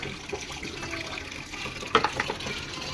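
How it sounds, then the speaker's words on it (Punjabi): Water poured out in a splashing, uneven stream, with a short burst of louder splashes near the end, heard alone at close range. "ਕਿੰਨੀ ਕੁ ਵਾਰ ਪਾਣੀ ਪਾਉਣਾ ਤੁਸੀਂ"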